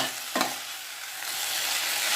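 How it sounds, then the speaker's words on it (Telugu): Bottle gourd curry being stirred in a pan after adding ginger, green chili and chili powder, one quick scrape standing out before a steady soft sizzle carries on alone. "ఇప్పుడు ఇందులో మనం ఈ అల్లం పచ్చిమిర్చి కారం వేసి ఒకసారి చక్కగా కలబెడదాము"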